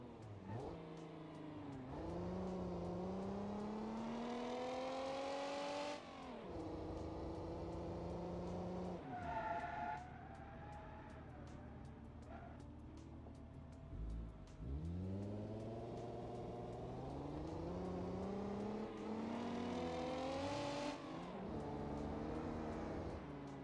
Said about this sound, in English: This is an derby car.